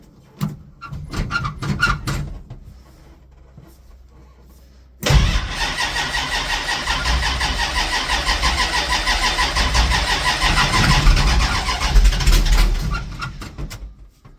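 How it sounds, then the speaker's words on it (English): A 1967 Dodge Dart V8 race car cold starts with a sudden loud crank and catch, then settles into a rough, lumpy idle that carries on close and steady for several seconds. "And now, cold start,"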